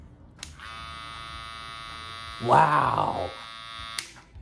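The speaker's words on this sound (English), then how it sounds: "Let's listen to the other clippers. Look at this one. This is a black clipper." A black electric barber hair clipper switches on and hums with a steady bright buzz, then switches off with a click; a person exclaims briefly over it midway.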